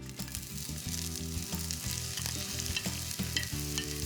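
Fennel and leeks sautéing in a pan, making a steady close sizzle with stirring scrapes, while a low tonal hum runs underneath.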